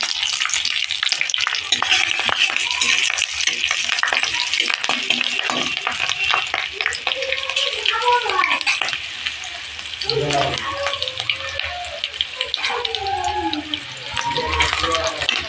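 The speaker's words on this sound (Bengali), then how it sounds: "তেলটা ভালো করে গরম করে নিয়েছি দিয়ে দেবো কালো জিরা এখানে দিয়ে দেবো কাঁচা লঙ্কা" Nigella seeds and green chilies frying in well-heated oil before tilapia curry, a loud continuous sizzle and crackle close up, with faint talk underneath partway through.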